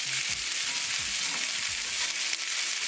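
Salmon fillets fry in a non-stick skillet with mushrooms, giving a steady close sizzle and crackle, while a utensil scrapes and taps as the fish is turned; nobody talks.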